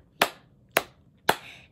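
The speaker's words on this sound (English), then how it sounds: "Next, we're gonna clap." Hands clapping along to a children's song, three sharp, evenly spaced claps about half a second apart, close and fairly quiet, with no talking.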